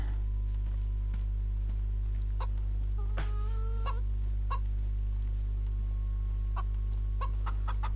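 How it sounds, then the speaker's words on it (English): Chickens clucking near a greenhouse in the video game DayZ Livonia, with scattered short clucks and a brief squawking run midway, fairly faint over a loud, constant low hum and no talking. "Poisonous chickens."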